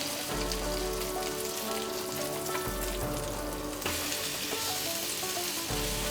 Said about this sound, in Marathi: आता हा टोस्ट असा पलटूया